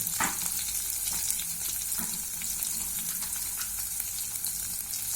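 Green chillies and peanuts fry in a pan with a constant, close sizzle, punctuated by a couple of soft stirring scrapes near the start; nobody speaks.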